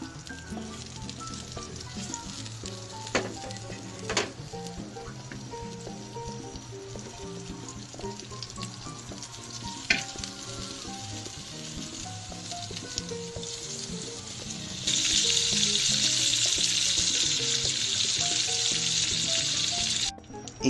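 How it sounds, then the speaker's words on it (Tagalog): Pork sautéing in melted butter in a pan for creamy paprika pork: a steady close sizzle with a few sharp utensil clicks, swelling into a louder, brighter hiss for the last few seconds before it cuts off. "Igisa po natin ang pork at hintayin natin maging lightly brown in 4 to 5 minutes"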